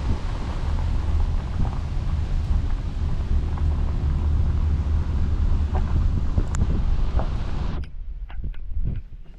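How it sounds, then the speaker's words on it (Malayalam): Strong wind gusting across the shore at Pigeon Lake, a loud continuous roar buffeting the microphone that drops away sharply near the end. "ഞങ്ങളിവിടെ എത്തിയപ്പം നല്ല കാറ്റ്"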